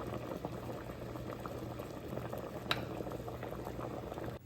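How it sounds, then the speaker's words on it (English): Water boiling steadily in a pot of potatoes, a continuous bubbling simmer at moderate level, close by, with one brief sharper pop near the middle and no talking. "Water is boiling."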